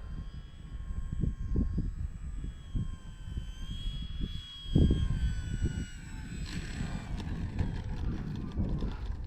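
A Durafly Tundra RC model airplane flies on a gusty day, its electric motor whining steadily with rising and falling pitch as it passes, under blustery wind noise.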